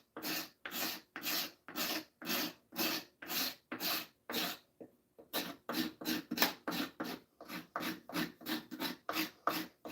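Steady rhythmic rasp strokes on a white oak axe handle, about two per second, close and loud, each a broad scratchy burst with a brief pause midway before the strokes resume.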